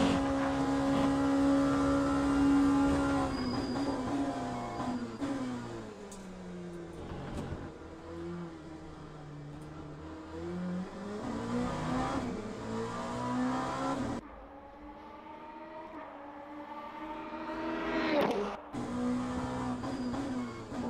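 A race car engine in the sim racing game Le Mans Ultimate revs, rising and falling through repeated gear changes and brief lifts, with loud, close engine tones and no talk.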